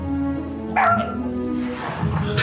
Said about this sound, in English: There's a fucking dog out there